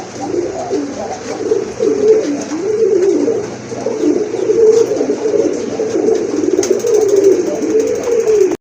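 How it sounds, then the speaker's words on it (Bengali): Several Lahori pigeons, including a male, coo continuously at a pigeon seller's collection, their overlapping low, throaty warbles rolling close by and fairly loud throughout, with faint background chirps and no talk. "দেখেন লাহোরের একটা নর কবুতর রয়েছে"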